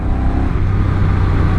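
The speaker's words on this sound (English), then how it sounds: "Now let's put it in sport mode." A Honda beginner motorcycle in sport mode accelerating, its engine a loud, close, steady rising drone with clear harmonic tones through a short burst.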